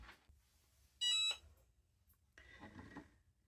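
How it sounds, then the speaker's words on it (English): A mug heat press beeps when its cycle finishes, a loud, steady electronic tone lasting about a third of a second, followed later by soft handling noises. "our mug press has beeped."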